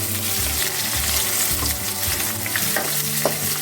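Small shallots frying in oil with broken cinnamon bark and cardamom pods give a loud, steady close sizzle, with scraping stir strokes running through it and no voices.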